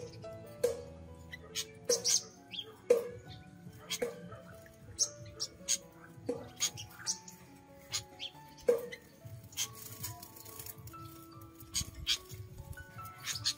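Young five-colored sunbirds give scattered thin, high chirps and squeaks, close and fairly faint. The calls come at irregular intervals while someone talks over them.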